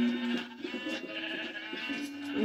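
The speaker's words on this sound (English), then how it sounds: "I am stuck in a pen full of sheep." Sheep bleating inside a pen in the video game Minecraft, several short wavering bleats that repeat and overlap in quick succession, close and clear over a quiet background.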